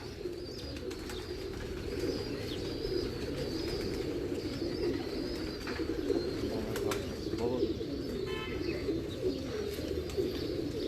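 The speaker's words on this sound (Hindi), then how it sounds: "ये एक और अली वाला कबूतर आया।" Ali Wala pigeons coo in a loft, with soft, low, repeated coos running steadily under a constant background hum.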